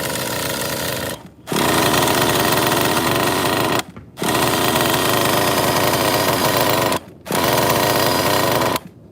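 A Kyosho FOXX nitro RC car engine runs loud and close, a dense buzzing rasp in three long bursts separated by brief cuts as the throttle drops.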